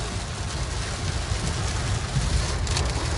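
Heavy rain pounds a car while it is being driven, a thick, loud, continuous roar of water that stays steady throughout, with no voices.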